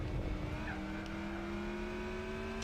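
Nissan GT-R race car engine in Gran Turismo 4 screams at steady high revs with a slowly rising pitch, loud and continuous over the whole stretch, with no talk.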